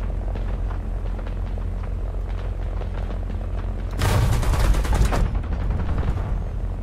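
Aircraft guns strafing in a War Thunder simulator battle: a loud rapid burst of gunfire lasting about a second over steady engine drone, standing out sharply from the constant low roar.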